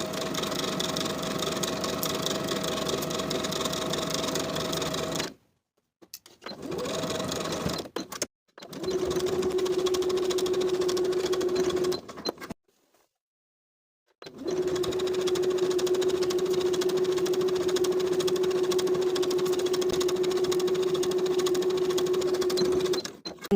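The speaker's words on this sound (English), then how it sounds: "sewing down to the bottom of the skirt with a 1/2 inch seam allowance" A sewing machine runs in long steady bursts while stitching the side seams of a skirt with a half-inch seam allowance, its motor whirring loudly and evenly, broken by short silent pauses.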